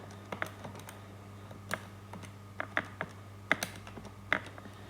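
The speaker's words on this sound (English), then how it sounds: "when I type it in the calculator, I don't make any mistakes" Fingers tapping numbers into a calculator during a maths lesson, a quiet close run of irregular plastic key clicks with brief pauses between presses and no talk.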